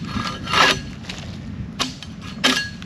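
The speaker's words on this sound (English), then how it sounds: "So I'll just go through basically a floor scraper." A floor scraper strips old bark off a log in four separate rasping strokes spread across the stretch, with quiet pauses between them.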